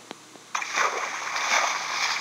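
Loud splashing and sloshing water as a player wades across a river in Minecraft Pocket Edition survival mode, starting suddenly after a faint tap and continuing steadily to the end.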